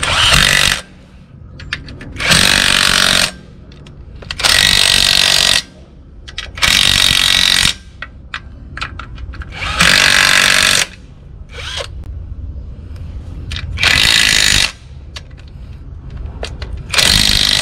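Bolts being run in and tightened on the stock torque converter of a Ford Falcon BA XR6 during an engine swap: loud bursts from a power tool, about one second each, repeat roughly every two seconds, with quieter mechanical clatter between them.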